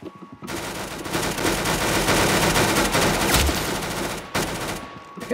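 Rapid gunfire from a video game rattles in dense, sustained bursts for about four seconds, loud and close, with brief gaps at the start and near the end.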